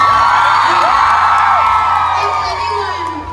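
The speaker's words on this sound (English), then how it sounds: "can we get a round of applause for how beautiful she looks?" A crowd at a fan convention whoops and cheers loudly and continuously, with overlapping shouts and yells close by that fade slightly toward the end.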